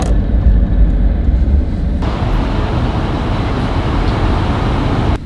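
A new Chevrolet truck's small Duramax diesel engine idles nearby at a gas station, giving a loud, steady low rumble that shifts slightly in tone partway through.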